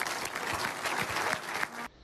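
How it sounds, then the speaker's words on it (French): Applause in a French-language news broadcast, a brief burst of crowd clapping at moderate level that cuts off abruptly near the end. "Ils méritent tous nos applaudissements."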